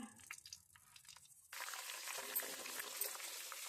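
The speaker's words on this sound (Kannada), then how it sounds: "ಒಗ್ಗರಣೆ ಇದ್ದೀನಿ ನೋಡಿ ಈರುಳ್ಳಿ ಕರ್ಬೇವು ಸೊಪ್ಪು ಸಾಸಿವೆ ಹಾಕ್ತೀನಿ" Quiet clinks at first, then a sudden burst of loud, crackling sizzle as onions, curry leaves and mustard seeds hit hot oil for tempering and keep frying steadily.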